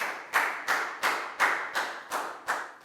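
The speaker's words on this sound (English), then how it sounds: "Big round of applause for Prel" A classroom applauds a student with eight even, evenly spaced claps, crisp and fairly close, each ringing briefly in the room, no talking.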